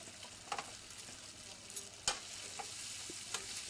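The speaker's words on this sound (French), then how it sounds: "bien mélanger mes spaghettis dans mon beurre" Spaghetti sizzles in butter in a pan while being stirred, giving a steady, fairly quiet frying hiss. A few sharp scrapes and clicks from the utensil cut through it.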